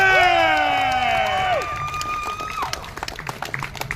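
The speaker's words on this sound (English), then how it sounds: "Everybody give a round of applause." A crowd at a Texas Transgender Day of Visibility rally claps and cheers, with high rising and sliding whoops riding over a spread-out patter of applause that thins and fades toward the end.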